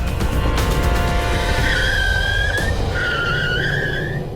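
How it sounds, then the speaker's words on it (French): Hard braking on a car in a road-rage test: engine and road noise run under two sustained, loud tyre squeals, the first fading out and a second rising, with a brief thump between them and no talk. "Alors là, elle écrase les freins."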